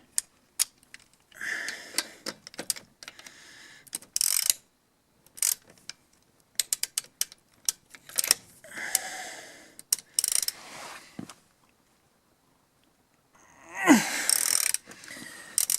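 Ratchet wrench clicking while loosening a wheel lock bolt on a Peugeot 407, irregular bursts of close metallic ticks separated by pauses, ending in a louder grinding crank.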